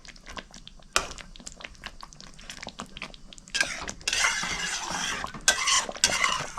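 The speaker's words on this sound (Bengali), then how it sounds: "মাছটা দিয়ে আমি ভালো করে মিক্স করে নিচ্ছি" Rui fish pieces stirred and turned in a pan for korma, intermittent spoon scrapes and clinks against the pan, with a louder sizzle building partway through, close by.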